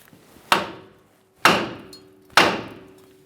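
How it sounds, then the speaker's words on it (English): Three sharp metallic hammer taps on a ball joint of a 2015-2020 Ford F-150 front suspension, evenly spaced about a second apart, each ringing briefly before fading, with quiet in between. "you can just lightly tap on this area with a hammer, causing vibration"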